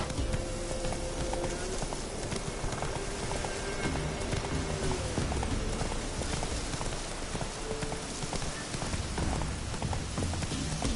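Horse hooves clip-clop in a steady galloping rhythm in The Witcher 3, with a rain-like wash of ambient noise beneath the rapid hoofbeats throughout.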